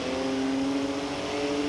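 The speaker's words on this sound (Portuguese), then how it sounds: "O ronco do carro" A car engine in Forza Horizon 4 holds a loud, sustained roar with a steady droning tone, close and alone, with no talk over it.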